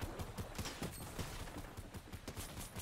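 In Fortnite, a spray weapon fires in rapid repeated bursts, a dense string of sharp quick shots heard close over roughly three seconds with no talking.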